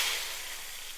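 Hot tempering of dried red chillies and curry leaves poured into rasam, giving a brief, close, loud sizzling hiss that slowly fades away.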